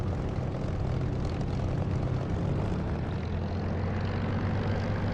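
Constant, loud drone of an airplane engine idling before takeoff in a flight sim game such as DCS or War Thunder, with a broad low rumble that holds steady throughout.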